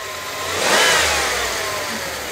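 An SUV engine revs sharply once, climbing to a loud peak and then easing back toward idle, close and alone with no talking.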